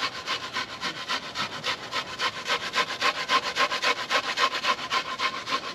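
An onion is grated by hand for smoked burgers, producing a steady, rhythmic rasping scrape of roughly two strokes per second, close and fairly loud, with no talking.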